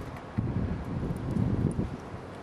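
Steady wind buffeting a microphone outdoors during a woodgas stove boil test, a low rumbling roar with gusty surges, no voices.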